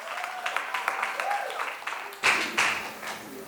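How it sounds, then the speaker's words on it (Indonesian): A congregation at a youth online church service briefly bursts into applause for a guest, the clapping short and rising over a moment of talk. "boleh sama-sama kita berikan tepuk tangannya"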